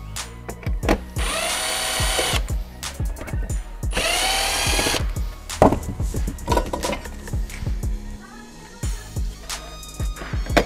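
A cordless power tool whirs in two long bursts, removing screws from a monitor mount, amid clinks and knocks of handled metal parts at close range.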